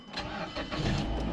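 A Mazda car that has sat unused for a while cranks and fires up, its engine catching and settling into a steady, rising rumble within about a second, close and loud with no talking.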